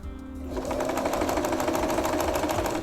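A sewing machine starts up and runs a steady, rapid stitching rhythm along a narrow seam about three millimetres wide, close and continuous after a brief quiet start.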